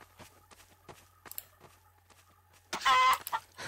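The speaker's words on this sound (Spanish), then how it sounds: "¡Una gallina!" Loud burst of chicken clucking and squawking in the Garry's Mod video game, arriving abruptly near the end after scattered quiet game noises.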